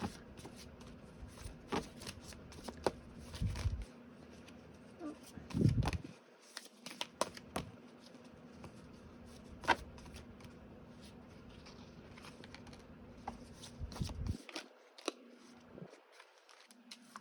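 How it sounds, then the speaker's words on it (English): Tarot cards are shuffled by hand in repeated soft riffles and slides, close up, with brief pauses between bursts. "So that is what I will be live shuffling for you today."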